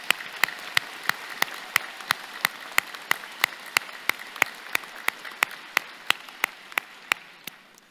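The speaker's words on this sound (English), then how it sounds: "let's give her a round of applause" Scattered, slow claps ring out at a spring university convocation ceremony in Mississauga, sharp individual hand strikes at a steady rhythm over a soft hall background, no talking.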